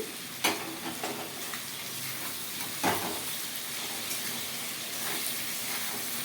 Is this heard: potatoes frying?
yes